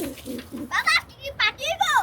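Soft pigeon coos close by, mixed with voices of people, including children, talking over them.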